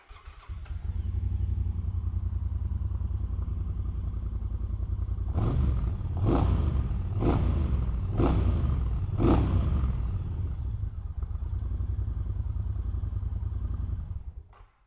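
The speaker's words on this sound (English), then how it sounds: "So let's fire this one up and have a listen." A Triumph Bonneville Bobber Black motorcycle engine runs at a steady idle, close and loud, with five sharp throttle blips in quick succession partway through before settling back to idle.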